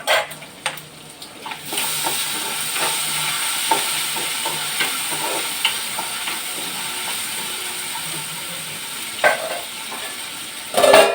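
Prawns frying in oil in a pan give a steady, close sizzle and hiss, with soft clinks and stirring knocks scattered through, and a louder clatter near the end.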